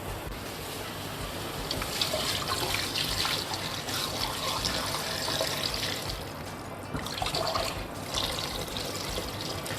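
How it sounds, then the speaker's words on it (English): Room temperature water pours from a tap over a goose in a pot, a continuous trickling and splashing stream that swells and eases over several seconds, close by, with no talking. "It's going to be room temperature water up to about here, so it kind of covers half the goose"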